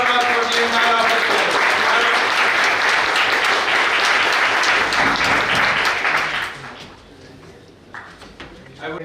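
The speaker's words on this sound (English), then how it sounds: "huge round of applause for the entire office" An audience at a club inauguration breaks into loud, sustained applause for about six seconds before it fades out, and a few faint sounds and voices follow in the quieter room.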